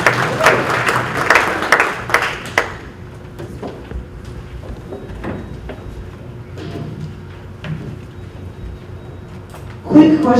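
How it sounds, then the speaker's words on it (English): Brief applause from attendees at a utilities meeting, loudest in the first two seconds and then tapering into quiet room noise and faint murmuring, with a short burst of sound near the end. "Can we get a round of applause for Jackson Water?"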